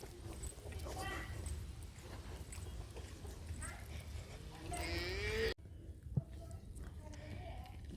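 Calf and cattle mooing close by on a farm at feeding and watering time, a drawn-out low call rising near the middle, with people talking over steady farmyard noise.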